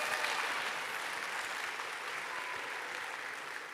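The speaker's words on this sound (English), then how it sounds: "a little round of applause" An audience at a panel event on The Office gives a round of applause, an even, moderately loud patter of clapping that stays steady to the end.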